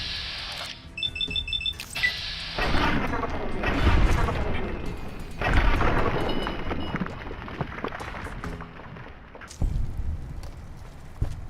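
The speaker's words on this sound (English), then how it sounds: "That 12mm submachine gun they're using is just intense." Rapid bursts of 12mm submachine gun fire in Fallout: A Tale of Two Wastelands, loud and close, mixed with other game sounds and a few electronic beeps, with some talk in between.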